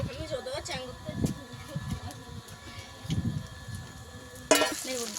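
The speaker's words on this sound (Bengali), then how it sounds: "আবারও একটা পরোটা ভেজে নেব" A paratha frying on a tawa, soft sizzling and scraping under ongoing talk, with a sharp burst of frying near the end.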